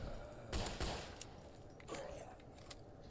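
Gunfire in the horror game Let's Kill Jeff The Killer: a couple of quick close shots, then a few lighter reports, fairly faint, with a voice speaking over it.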